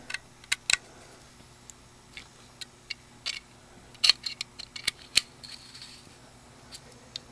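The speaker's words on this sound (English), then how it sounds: "And I will go back and tighten these all the way." Screws being tightened by hand with a small tool, a series of sharp, irregular clicks and ticks, close and fairly quiet, with no one talking.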